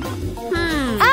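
A pet cat gives a drawn-out, falling meow, close and fairly loud, followed by a sharper, rising second cry; some voice-like background sits underneath.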